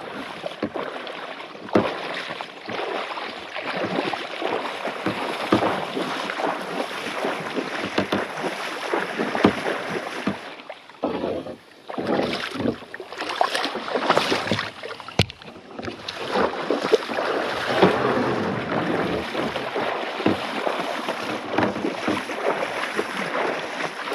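A boat is towed by hand through shallow Alaskan water, with irregular splashing and sloshing, wind buffeting the microphone, and uneven bursts of movement throughout.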